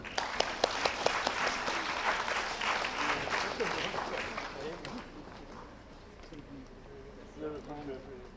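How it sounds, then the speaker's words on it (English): Applause from a plenary session audience at a software engineering conference as a memento is presented on stage, loud at first and thinning out, with talk and crowd murmur underneath toward the end. "A great round of applause,"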